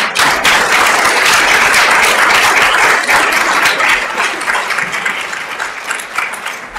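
Sustained audience applause fills a health-system risk reduction summit hall after a conference talk, a dense steady wash of many hands clapping that holds loud, then gradually thins and softens toward the end.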